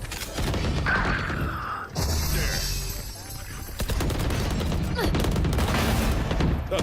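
Valorant gunfire in a VCT Americas pro match comes as rapid, close bursts of shots and fusillades. Excited voices talk over it throughout.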